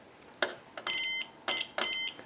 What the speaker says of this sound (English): the resistance of the, like, motor on the saw is low enough that it just goes beep